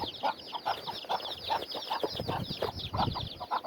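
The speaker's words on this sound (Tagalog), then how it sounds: "Ang ingay ng manok. Sa likod." Chickens cluck repeatedly behind a house on a windy, cold day after rain, a busy overlapping chatter of hens at moderate distance over a steady wind rush.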